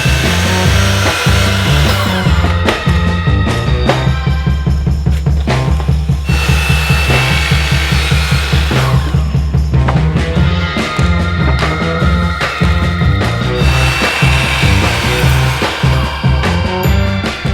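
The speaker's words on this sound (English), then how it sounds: "she spends a lot of time at the miter saw" A miter saw cuts wood in a home office build. The loud motor whine starts and stops in repeated bursts as the blade bites through the boards, close up and without speech.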